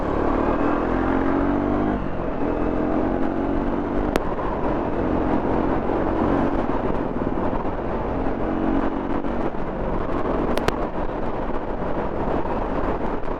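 A Triumph Speed 400 roadster pulls hard on the throttle while being ridden, its engine drone rising steadily under heavy, constant wind rush across the microphone for the whole stretch.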